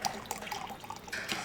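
Warm water is poured into a flour mixture while making handmade noodles. It sounds like a soft, faint trickle and splash of liquid with scattered drips, and a brighter burst of pouring comes near the end. No one speaks.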